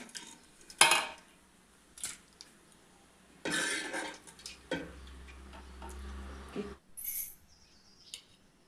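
Brinjal curry being served from a pressure cooker into a vessel, with close clinks and scrapes of a ladle against metal pots in a quiet kitchen, some bursts sharper and louder than others.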